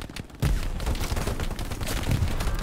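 Dense machine gun fire in the World War II shooter Hell Let Loose, a continuous crackling barrage of rapid shots, loud and close, with brief quieter moments at the start.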